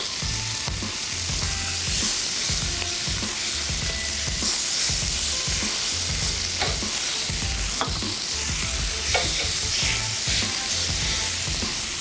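Lemongrass lamb cutlets fry loudly in a hot pan, giving a steady, close, crackling sizzle with brief spits and pops throughout and no voices.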